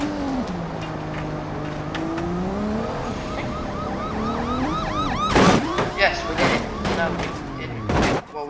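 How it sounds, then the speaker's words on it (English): A police car siren wails continuously in the driving game BeamNG.drive, loud and steady with rising and falling tones, while engine noise and several sharp crash-like bursts from spike strip testing cut through near the end. "Turn your siren back on."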